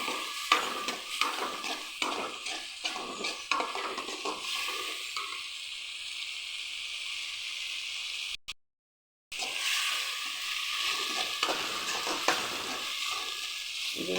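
Kara kuzhambu gravy with mochakottai and karamani sautés in oil, giving a continuous bubbling sizzle broken by frequent stirring scrapes, close up, with a short silent gap partway through.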